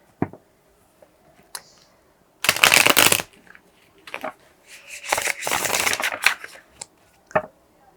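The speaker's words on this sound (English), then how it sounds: "let me shuffle some tarot cards to see the outcome of your situation" Tarot cards are shuffled by hand in bursts, with a few quick riffling runs and soft slaps of the deck between them, close and crisp against an otherwise quiet room.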